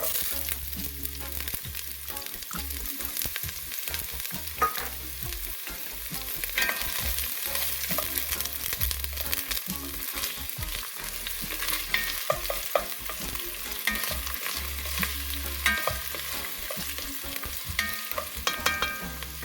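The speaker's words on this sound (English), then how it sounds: "I have 2 tablespoons of coconut oil in my pot. And I'm going to go in with my onions." Onions fry in two tablespoons of coconut oil in a pot, a continuous close sizzle broken by frequent scraping and stirring, with no voices.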